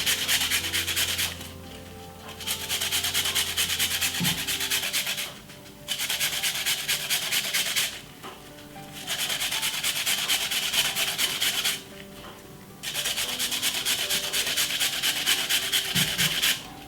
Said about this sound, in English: I'm going to simple grate the beetroot